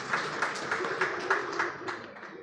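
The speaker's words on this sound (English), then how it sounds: "A round of applause." A conference audience at a fintech event gives a short round of applause for the sponsors. The clapping is brief, moderately loud and slightly uneven.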